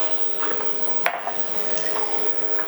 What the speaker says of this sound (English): put some water as well